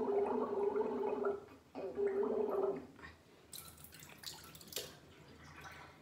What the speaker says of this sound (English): It has antibiotic turmeric, so this is very good to use it as a gargle.